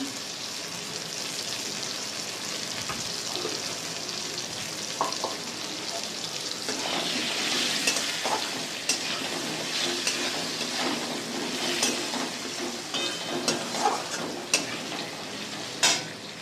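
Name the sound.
fish roe frying with turmeric in a pan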